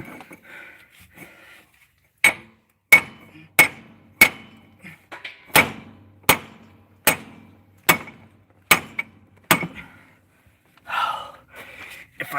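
Hammer blows on a cab bushing of a 2009 International truck: about a dozen sharp, ringing metal strikes at a steady, unhurried pace, loud and close, followed by some softer rustling and clatter.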